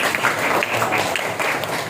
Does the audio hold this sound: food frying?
no